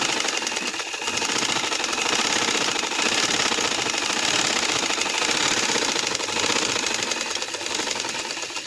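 Sewing machine stitching seams on a tight dress being resized, a fast, even mechanical rattle running continuously and loud close by, with brief slowdowns.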